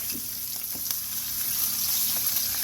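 Italian sausage searing in a hot pan, a continuous crackling sizzle close and steady for a few seconds, with light scraping taps mixed in.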